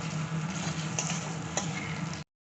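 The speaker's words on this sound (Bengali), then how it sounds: "এবার এর মধ্যে আমরা দিয়ে দিচ্ছি টুকরো করে কেটে রাখা টমেটো, দিয়ে আবারও কিছুক্ষণ ভালো করে কষিয়ে নেব" Chopped tomatoes sautéing with onion, ginger and garlic in a pan, a steady close sizzle with a couple of faint clicks, stopping abruptly near the end.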